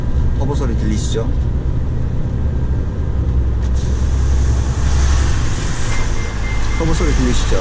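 A commercial vehicle's turbocharged engine runs at a steady idle, a close low rumble with a faint airy hiss above it, and brief muffled voice-like sounds near the start and end.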